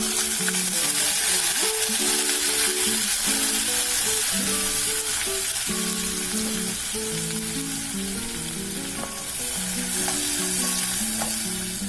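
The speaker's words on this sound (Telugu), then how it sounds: "ఇదంతా కూడా 2 నిమిషాలు ఫ్రై చేసుకున్నాము." Blended onion paste fries in a pan for a chickpea spinach curry, a steady close sizzle with occasional stirring, under soft background music and no talk.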